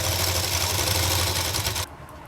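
An electric sewing machine runs a second line of double stitching along a loose summer palazzo with a full elastic waist. It hums steadily and close for almost two seconds, then stops abruptly, leaving only faint room tone.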